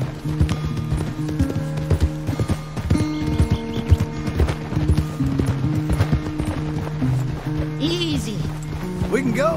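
Rhythmic hoofbeats of a galloping horse in Red Dead Redemption 2 over a busy backdrop of music and game sounds, with voices talking throughout.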